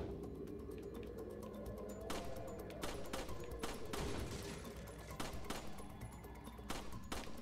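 Rapid, irregular gunshots crack at shooting gallery targets in Resident Evil 4, sharp close reports in quick clusters and singles over a low ambient bed, with no talking.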